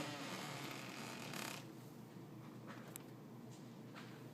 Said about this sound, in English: probably blackberry vines crackling